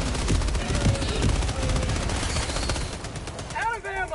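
Rapid machine-gun fire in the video game Helldivers: a dense, continuous stream of loud, close shots with booming low rumble, fading near the end into whistling, warbling sci-fi tones.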